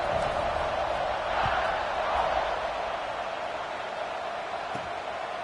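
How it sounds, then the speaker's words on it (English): Football stadium crowd at an Alabama vs Florida State game, buzzing steadily after a score as the extra point is kicked, a broad continuous roar with a swell near the start, heard from within the stands. "this crowd is buzzing after that last score"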